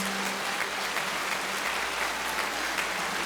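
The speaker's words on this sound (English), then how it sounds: "Let's have a round of applause for everyone that's here tonight." Guests at the Caring Place centennial gala applaud in a dense, even wash of clapping that holds steady throughout, with no voices.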